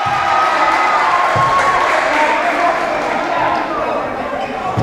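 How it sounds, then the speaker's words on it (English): Crowd noise in a high school gym during a boys varsity basketball overtime, a steady broad wash of cheering and clapping from spectators including the JV squad, with a commentator's voice over it throughout. "the JV squad will give them a round of applause"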